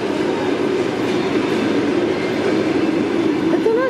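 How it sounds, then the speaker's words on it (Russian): Passenger train on the Ufa–Moscow line pulling away nearby: loud continuous rolling rumble with rhythmic wheel clatter, and a brief wheel squeal near the end, with some people talking faintly underneath. "Да как это поезд уезжает?"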